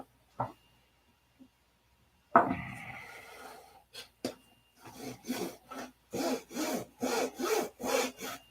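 Handsaw cutting through wood up close, starting with a few scattered knocks and rasps, then settling into a steady back-and-forth rhythm of strokes that grow louder toward the end.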